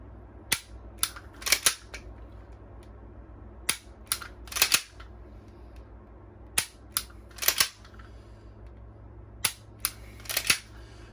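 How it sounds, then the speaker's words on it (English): A pistol is dry fired in a repeating pattern: the slide racks, then the trigger breaks with a sharp click, about five cycles at steady intervals, close and loud over a low background hum. "racking between each one so that I have to rebuild my grip. This is a wonderful, very brief dry fire exercise that anybody can do."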